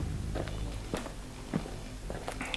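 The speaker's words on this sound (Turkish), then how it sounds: "Ayak sesleri geliyor. Aga dinleyin." Quiet video game footsteps in Piggy.Exe, a handful of soft thuds at an even walking pace, set against a low steady background hum.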